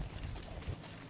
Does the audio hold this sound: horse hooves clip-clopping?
yes